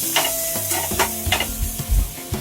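Coriander, tomato, garlic and ginger roast in a hot pan while a spatula scrapes and stirs them. The stirring is close and fairly loud, with irregular strokes over a soft sizzle.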